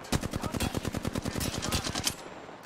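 Rapid automatic gunfire in the Apex Legends video game, a sustained burst of evenly spaced loud shots lasting about two seconds before cutting off.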